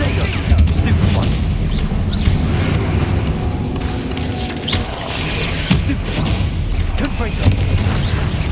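An explosive spell is cast repeatedly in the Hogwarts Legacy video game amid constant combat: loud booms and crackling blasts over a dense rumbling background, with several sharp bursts spread across the stretch.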